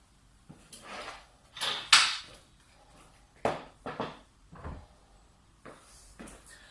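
A chair is shifted aside on the floor during an outdoor fitness class, giving several short scraping knocks and bumps, fairly close and moderately loud, with no talking.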